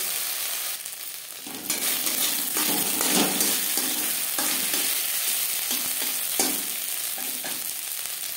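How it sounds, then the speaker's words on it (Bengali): Grated coconut with ginger and green chili paste stir-fries in a pan, a continuous close sizzle broken by repeated scraping stirs, with no talk. "কাঁচা গন্ধ যাওয়া পর্যন্ত নাড়াচাড়া করে দেব"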